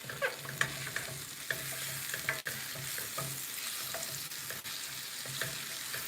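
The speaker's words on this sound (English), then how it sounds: "Gonna let that cook for another maybe 2 minutes and let that break down." Chickpea curry with tomatoes and habanero cooking in a pan, giving a steady close sizzle with a few spoon clatters and stirring knocks against the pan.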